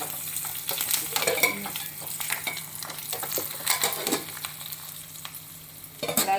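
Curry leaves crackle and sizzle in hot oil while being stirred for Rayalaseema-style uggani, a steady loud frying hiss with scraping clinks, flaring up sharply near the end.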